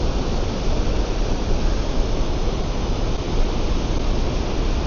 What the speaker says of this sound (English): I take it you can hear the force of that water going through there.